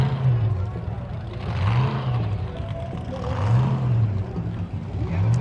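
A hot rod with a 427 engine and a supercharger blower revs at an outdoor rockabilly car show, its loud engine tone rising and falling in repeated swells, with crowd noise and voices around it.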